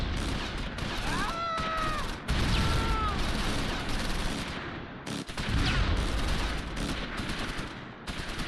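Steady volleys of soldiers' rifle and machine-gun fire crackle through a Close Combat V battle, dense and continuous with sharp bursts over a noisy din, mixed with whistling and swooping effects.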